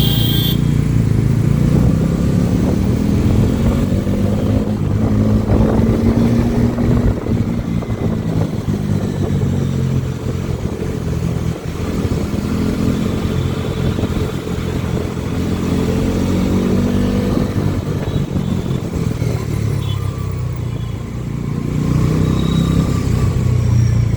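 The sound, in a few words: motorcycle riding along the road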